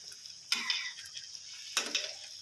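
Pork for Thai panang curry cooking in a wok, heard as two sharp bursts of sizzling with light scraping and clinks in between, fairly quiet and close.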